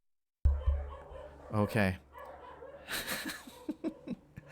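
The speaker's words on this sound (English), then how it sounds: "I don't know if you can hear the dogs barking" Several dogs bark and yip outdoors in the distance while people run past, a burst of barks and scattered yelps with a person's voice heard briefly over them.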